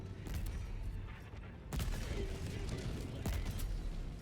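A weapon fires in Helldivers 2 in repeated rapid bursts, loud and close, with sharp reports stacking over a rumbling battle background and a few heavier booms cutting through.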